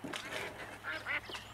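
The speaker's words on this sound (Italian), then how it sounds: "Andrò in cortile a presentarmi alle galline." Farmyard poultry cluck and honk in a 1938 Italian film, a quick run of nasal, squawking calls close together in an uneven burst over faint background hum.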